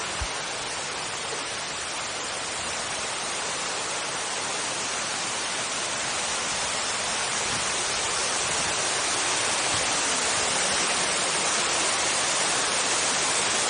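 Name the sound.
waterfall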